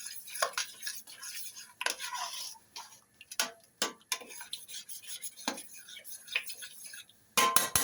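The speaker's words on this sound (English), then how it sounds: "So keep stirring it." A utensil stirs chilli in a pan, with soft repeated scrapes and light clinks at an uneven pace. The sounds are close and fairly quiet, with no talk.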